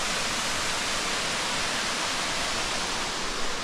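Steady, dense roar of a waterfall at Erawan Falls in Thailand, heard up close as a continuous broadband rush of falling water with no voices.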